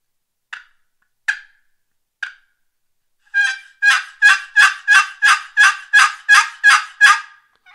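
A hand-operated turkey hunting call clucks three times with sharp, spaced notes, then plays a quick run of about ten rhythmic, raspy yelps, close and loud in an otherwise silent space.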